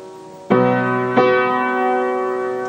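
Two low piano notes struck in succession, each ringing out and sustaining, played alone with no voices.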